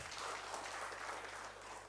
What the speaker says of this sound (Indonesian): Tepuk tangan buat Allah kita.